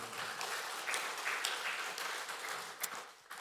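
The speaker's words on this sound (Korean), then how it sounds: "우리 하나님 앞에 영광의 박수를 올려드리겠습니다" A church congregation bursts into applause after a Korean sermon, a brief, full-bodied roll of many hands clapping at moderate distance with a few louder claps poking through.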